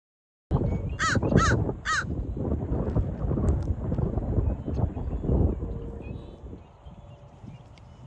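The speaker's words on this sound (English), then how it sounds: "Crow." A crow gives three quick, loud caws near the start, then calls more faintly over a busy outdoor background.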